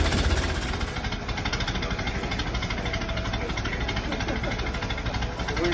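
A 1927 Ford Model T on a test drive after a wheel bearing repack, its engine a loud, steady close-up drone with a rapid rhythmic chug throughout.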